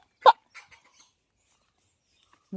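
One sharp bark up close, followed by a couple of faint, short yelps and then near silence.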